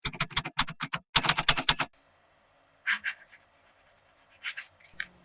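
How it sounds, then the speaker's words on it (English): Fountain pen with a soft fine nib writing in a composition lab notebook: a fast run of dry scratchy strokes, a pause, another dense burst, then sparse faint scratches, close and quiet, with no talk. "The next writing sample is done in a composition lab notebook."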